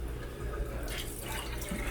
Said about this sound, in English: you want to just rinse it in cold water